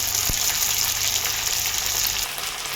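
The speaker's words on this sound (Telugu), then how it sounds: "ఆయిల్ కొంచెం వేడెక్కిన తర్వాత మనం కట్ చేసి పెట్టుకున్న దొండకాయని వేసేసుకుందాం" Chopped ivy gourd hits hot oil, bursting into a steady, loud sizzle of frying that holds evenly and eases slightly near the end, with no voices.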